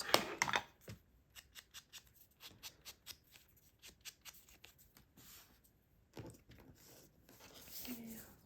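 Scissors cut around the zigzag edges of paper scraps up close, making a steady series of short crisp snips at an even rhythm, with a bit of soft paper handling between cuts.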